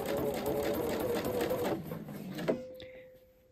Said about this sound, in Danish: jeg syr helt op til toppen af den tværliggende stolpe her, hvor jeg laver en pæn lille punkthæftning